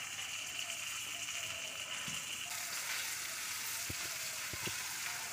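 Bottle gourd stems and leaves frying with potatoes in oil, a steady loud sizzle and crackle with a few sharp clatters of stirring near the end, no talk.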